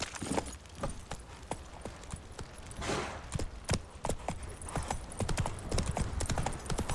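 Horse hooves clip-clop in The Witcher video game, a steady brisk rhythm of sharp hoof strikes close by over a continuous rumbling ground noise, with faint jingling of tack and no speech.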